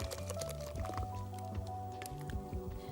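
Thick custard pudding mixture is poured into a buttered baking dish, giving soft wet squishing and dripping sounds, close and quiet, in an irregular stream with no speech.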